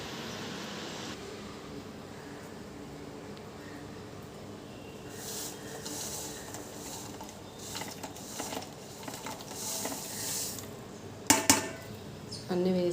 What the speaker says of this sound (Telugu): ఇప్పుడు మనం పప్పులన్నీ వేసేద్దాం.